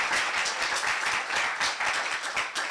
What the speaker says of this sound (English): I'm going to ask you for a huge round of applause for our Mokoti for this evening, Sheila Khama